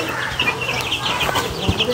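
Backyard chickens kept in a pen built to house about fifty large birds cluck and murmur steadily up close, with other farmyard noise around them and no talking.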